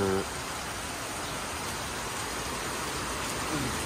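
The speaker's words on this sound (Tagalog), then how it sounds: "Yan, ulan po ang pinapakita natin dito." Steady, dense rainfall hisses evenly throughout, a continuous wash of drops on surfaces, briefly preceded by a faint voice at the start.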